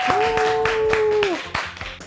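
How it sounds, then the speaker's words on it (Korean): Clapping in a studio celebrating a show's 300th episode, a handful of sharp, rhythmic claps close by, layered under a sustained tonal sound and brief vocal noise. "야, 다시 한번 박수 한번."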